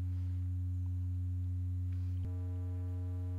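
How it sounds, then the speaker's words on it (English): A smooth sine wave from the Blue Lantern Lunar Modulation Lab VCO, a steady pure low tone with mains hum beneath that briefly clicks and shifts partway through, then holds on alone. "It's a nice smooth sine wave."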